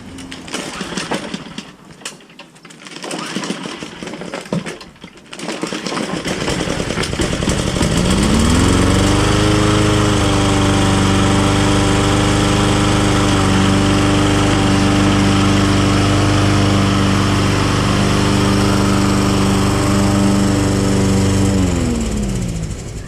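After a few seconds of clatter and quiet, a Cub Cadet SR621 riding mower engine fires up and runs loud and steady nearby, its revs climbing briefly before settling into a constant buzzing drone.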